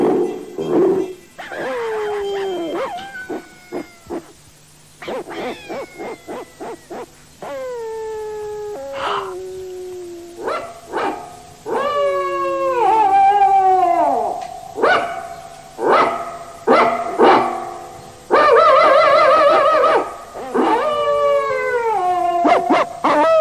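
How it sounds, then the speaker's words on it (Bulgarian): Cartoon dogs in an animated film bark, yip and howl one after another. Long, wavering howls mix with sharp barks, near and far, and the chorus swells toward the end. "Сега всичко зависи от нас, кучетата, от вечерния ни лай."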